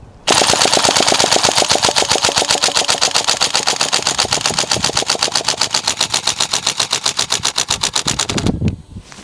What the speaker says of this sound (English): Fully automatic mag dump.